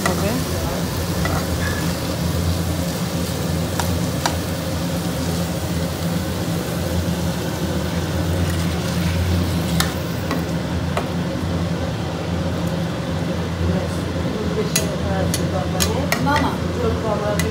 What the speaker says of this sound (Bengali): একটু কষা কষা করে রান্না করা হবে।